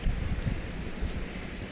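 Sea waves wash ashore at Vayangani beach in Ratnagiri, a steady low surf roar blended with gusty wind buffeting the microphone, with no voices.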